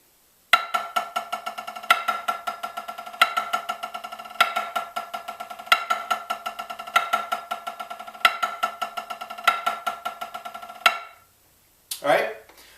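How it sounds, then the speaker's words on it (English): Snare drum buzz roll played with overlapping hand strokes, repeated in several sustained bursts of dense, rhythmic rattling, each one swelling and decaying, close and clear, with a short pause near the end before a final burst. "And it starts to create that overlay and sustaining buzz sound underneath."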